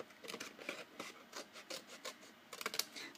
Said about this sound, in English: So let me get my snips and go ahead and take those off.